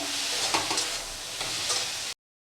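Ground spices (cumin, coriander, chili and turmeric) sizzle steadily in a hot pan for a prawn curry, with soft stirring scrapes, before the sound cuts off abruptly.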